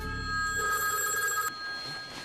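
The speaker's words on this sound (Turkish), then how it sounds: "telefon çalıyor" A telephone bell rings steadily for about a second and a half, then stops, leaving a quiet room tone.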